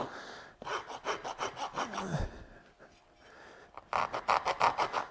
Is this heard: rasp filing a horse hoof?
yes